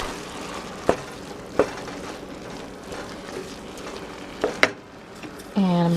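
Ground turkey with pepper and garlic powder being stirred in a pot for a crockpot pot roast, with a few sharp spoon knocks against the pot over a steady low background and a brief hum at the end.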